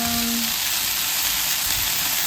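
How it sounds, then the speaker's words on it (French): Potatoes and onion frying gently in a pan, giving a steady, dense sizzle and crackle with no talk. "J'ai mis les patates, l'oignon. Et c'est en train de cuire gentiment."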